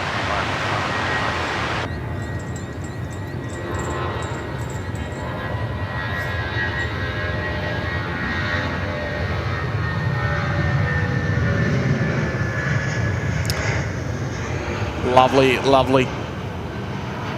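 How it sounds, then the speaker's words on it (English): Jetstar A320 in Pride livery rolling from an intersection departure on runway 16 right at Sydney Airport, a steady broad engine roar building over the airfield with wind noise, while someone talks briefly over it. "The special Jetstar 320 there, the Pride livery."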